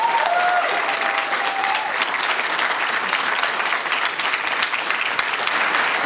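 Sustained, dense applause from an audience at a Sacramento city council meeting, steady and loud throughout with no talking over it.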